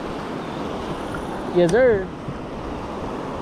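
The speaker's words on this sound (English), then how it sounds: "There's a sandbar where those waves are crashing" Ocean surf breaking on a sandbar off a fishing beach, a steady wash of rolling noise throughout, with a brief swell in the middle and a short spoken reply over it.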